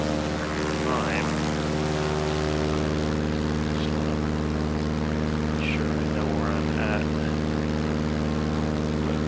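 A propeller airplane engine drones steadily in Microsoft Flight Simulator 2020, a loud, continuous hum with strong low harmonics that holds constant from start to finish, with faint sounds flickering above it.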